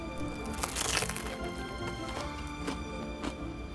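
Bites into a crunchy French dip sandwich with beef, cheese and horseradish sauce, several crisp close crunches and crackles in quick succession.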